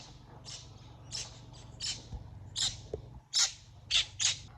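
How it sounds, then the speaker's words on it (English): Parrots squawk in a series of sharp, repeated calls, fairly close, over a faint low hum. "Beautiful king parrots."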